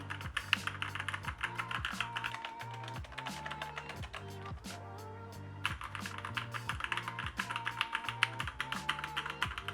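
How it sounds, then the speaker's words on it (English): Steady typing on a Keychron K10 mechanical keyboard, rapid, moderately loud clacking keystrokes close up with a brief pause midway before the tapping resumes. "This keyboard is not as loud or as clicky compared to other more tactile ones."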